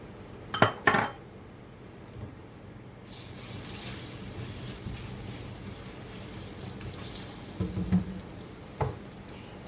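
Crushed, chopped garlic drops into a pan of hot olive oil and sets off a broad, steady sizzle that holds for several seconds, with a few near clinks and stirring knocks from the pan.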